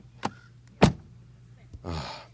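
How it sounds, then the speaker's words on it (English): Keyless entry on a 2023 BMW X7 40i, short faint clicks and a soft thunk, followed by a brief whirring mechanism, several separate quiet events with no speech. "you close the car here on top and open it like this with the keyless entry and door closing sound"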